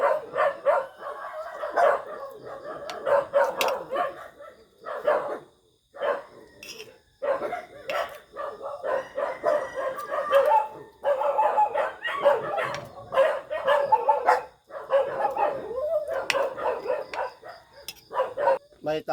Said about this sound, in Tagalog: May taong dumadaan guys. Tinatahan ng mga aso ko.